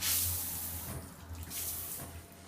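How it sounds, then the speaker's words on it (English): A shower runs steadily in a bathroom being checked before a job, a soft continuous hiss of spraying water at moderate distance with no talk over it. "the most important thing first is to check the functionality of the shower"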